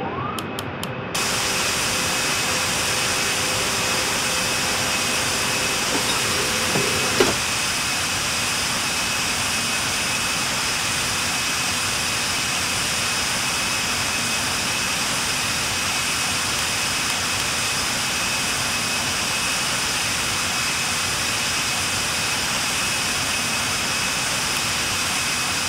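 Boeing jet engines roar in a Real Flight Simulator takeoff from Canberra, a loud, steady, high-pitched whine and rush that holds throughout, with a brief click early on and no talking.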